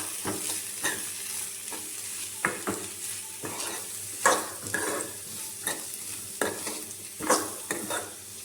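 Shredded cabbage and green chillies stir-fried into a Gujarati sambharo sizzle quietly in a pan, with repeated scraping strokes of a spoon recurring every second or so over a soft, steady frying hiss.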